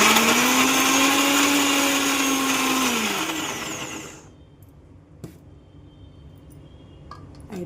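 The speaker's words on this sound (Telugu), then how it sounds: "ఇప్పుడు మిక్సీ చేద్దాం." A mixer grinder whirs loudly through a batch of no-onion, no-garlic chutney for about four seconds, its pitch dropping as it spins down, followed by near silence with a few faint clicks.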